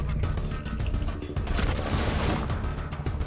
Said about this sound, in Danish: Suicide bomber, der bare kommer op i fjes på en